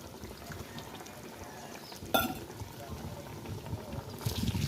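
Hot water pours steadily into a cooking pot for chicken dum biryani, a continuous rushing splash that stays close, with a sharp clatter partway through and a brief gush near the end.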